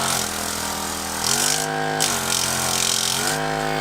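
A Dustgo percussion massage gun runs close by with a steady, loud motorized buzz whose pitch steps up and down as the speed setting changes.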